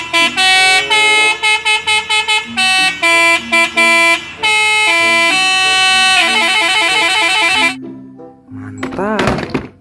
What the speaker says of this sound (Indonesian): Ada mobil molen teman-teman.